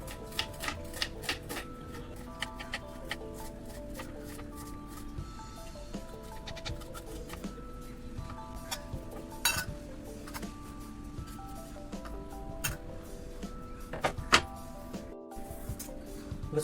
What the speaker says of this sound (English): So I'm going to finely chop this onion.